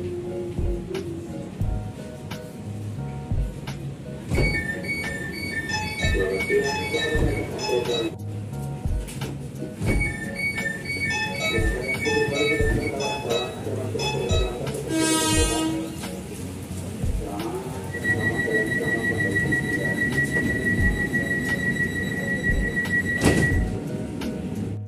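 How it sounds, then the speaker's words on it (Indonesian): Door chimes on a China-built KRL commuter train sound as repeated electronic tone sequences when the doors open and close, heard over rumbling carriage noise, with a sustained high tone near the end. "adanya bel atau suara ketika pintu kereta ini ditutup dan dibuka, sama halnya seperti MRT dan busway"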